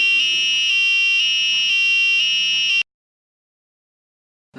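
A two-button Arduino doorbell sounds a loud, steady electronic buzzer tone in repeated pulses for nearly three seconds, then cuts off abruptly into silence before a brief sound returns at the very end.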